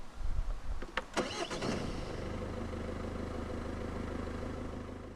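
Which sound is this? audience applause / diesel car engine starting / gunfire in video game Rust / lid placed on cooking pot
diesel car engine starting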